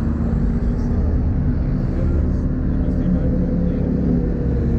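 A Chevrolet Camaro engine running on E85 fuel gives a steady, deep, close rumble that holds at an even level throughout, with no distinct rev peaks.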